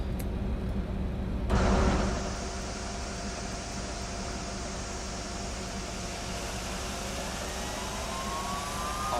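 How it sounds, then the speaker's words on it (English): An MD-11 jet engine, number 3, spooling up in a flight simulator, a steady whine and rising tones with a louder rumble early on, then a continuous even drone. "Starting engine number 3."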